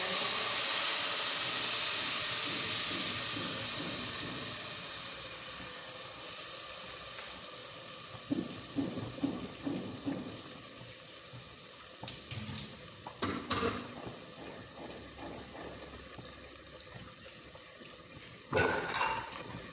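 Onion, cumin, fenugreek, chilies and turmeric fry in hot oil with a steady sizzling hiss that slowly fades, broken by intermittent scraping and clinking as the mixture is stirred in the pan.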